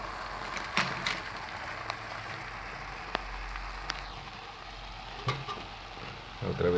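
Tomato frying in a pan with huitlacoche, a steady soft sizzle with occasional stirring clicks and scrapes, fairly faint and continuous.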